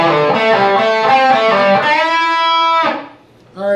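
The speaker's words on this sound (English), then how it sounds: "the first half measure of the lick will sound like this" A distorted electric guitar plays a quick lick of fast notes from the solo of a song, ending on a sustained bend, loud and gritty, then cuts off before a brief new attack.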